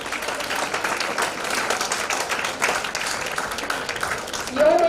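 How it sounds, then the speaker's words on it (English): A conference audience claps in sustained, dense applause throughout, fairly close, with a voice starting to speak just at the end. "Ladies and gentlemen, please huge round of applause."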